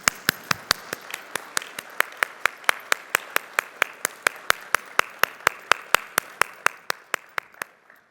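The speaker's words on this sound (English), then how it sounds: "You can keep clapping. It's a nice soundtrack." Sharp claps ring out in a steady, even rhythm, apparently from a single pair of hands rather than a crowd, fading toward the end.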